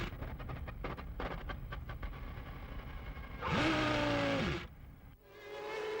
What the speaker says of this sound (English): his fuel pump packs up and you can hear the car spluttering